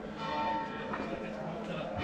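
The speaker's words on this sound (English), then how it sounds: "That's the 5 to 12 bell." A church bell rings at five to twelve over a busy Felanitx outdoor market in Mallorca, a sustained tone carrying steadily above crowd murmur and nearby voices throughout the short stretch.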